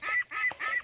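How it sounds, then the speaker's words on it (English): Young ducks, one hatched at home and three bought, moved into a new pen, give three quick, close, nasal calls in an even rhythm with brief gaps between them. "Here's those baby ducks."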